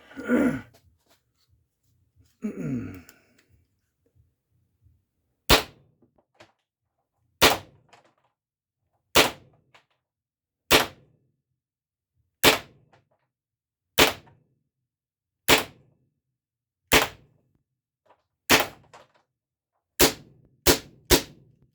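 A CO2 pistol powered by a 12-gram cartridge fires about a dozen sharp, loud cracks, spaced roughly every one to two seconds and speeding up at the end, after some breathy sighs at the start.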